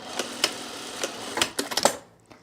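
A sewing machine stitches fabric in short, sharp bursts of rapid mechanical clatter, with a quick cluster of stitches near the end before it stops and goes quiet, close and clear with no talking.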